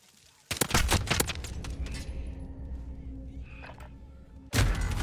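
Gunfire in Call of Duty: Modern Warfare, a 1v1 match: a burst of sharp, loud shots opens, thins into a rumbling tail with scattered impacts, then another loud blast lands near the end.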